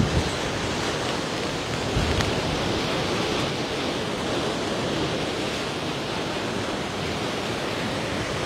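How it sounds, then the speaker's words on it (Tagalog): Roaring typhoon winds of Super Typhoon Nando sweep through Santa Ana, Cagayan, a dense, steady broadband rush lasting throughout with gusty surges, loud and close, with no voices. "mas malakas ang hangin na ibinubuga at hinahampas nitong super typhoon Nando"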